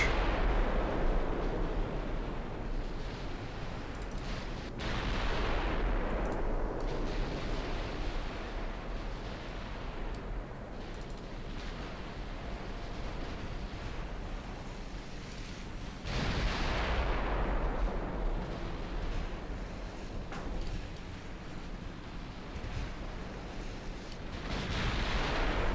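Naval guns of a French dreadnought fire in a battleship video game, heavy low booms rolling over a continuous rumbling battle din, with big salvos around the start, middle and end.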